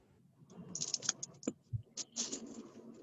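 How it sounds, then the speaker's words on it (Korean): Keys on a computer keyboard clatter in short irregular bursts of clicks and taps during subtitle editing, close and crisp with brief pauses between strokes. "글자 선택해주고 키보드 눌러주고 딜리트 눌러서 지워주고요"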